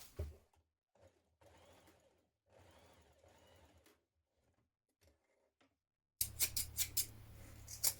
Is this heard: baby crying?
no